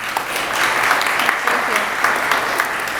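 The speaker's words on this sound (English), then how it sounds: "please join me in a warm round of applause greeting your new board of directors" A conference audience gives a warm round of applause for a newly installed board of directors, dense and sustained clapping with a few louder peaks throughout.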